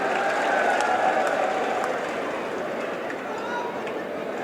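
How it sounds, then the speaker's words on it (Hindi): Loud, steady applause from a large crowd at a Yogi political rally in Etawah, a dense wash of clapping that holds for several seconds and eases slightly toward the end. "जोरदार तालियां आपके लिए।"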